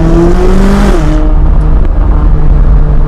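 A GT race car engine accelerates hard and loud, its pitch climbing steadily before dropping sharply at a gear change, then rising again in a continuous close-up roar.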